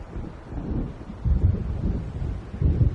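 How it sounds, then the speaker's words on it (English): Thunder from an approaching storm in the video game Alan Wake rolls as low, rumbling swells over a windy background, two heavier peaks surging in succession at moderate distance. "It seems there's a storm coming."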